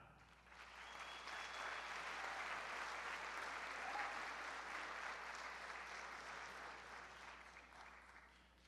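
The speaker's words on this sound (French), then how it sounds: "Applaudissons chaleureusement la cohorte 2016 des diplômés de la Faculté des sciences de l'éducation." Sustained, fairly faint applause from a crowd at a Montréal graduation ceremony for the 2016 cohort of education sciences graduates, a dense even wash of clapping that swells and then tapers off.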